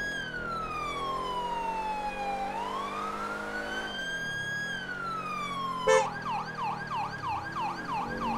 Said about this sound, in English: siren that I'm using is actually a Hampshire Constabulary siren